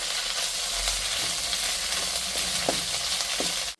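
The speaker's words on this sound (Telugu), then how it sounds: "కరివేపాకుని వేసిన తర్వాత ఇలా వేయించుకోవాలండి బాగా" Curry leaves fry in half a spoon of oil for a traditional curry leaves powder, making a close, steady crackling sizzle with a few soft stirring scrapes before it cuts off.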